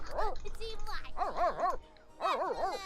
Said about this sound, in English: these dogs are noisy